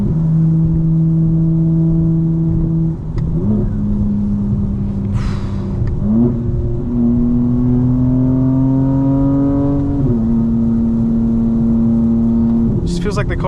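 A 2025 BMW M4 Competition xDrive in all-wheel-drive sport mode on a wet track revs hard and steadily at high RPM, its loud engine drone climbing through gears with brief shift dips, while a voice talks over it.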